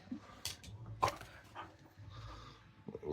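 A dog barks and whimpers in short bursts during pumpkin carving, the sounds fairly faint and scattered among quieter stretches.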